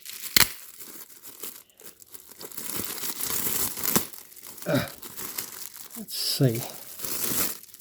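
Plastic packaging crinkling and tearing open around a boxed P-47 Thunderbolt model kit with diorama base, close-up rustling bursts with someone talking briefly over it.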